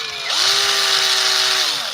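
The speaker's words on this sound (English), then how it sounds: "Put that drill right up to that microphone." A power drill whirs right against the microphone, spinning up, holding a steady loud whine for over a second, then winding down.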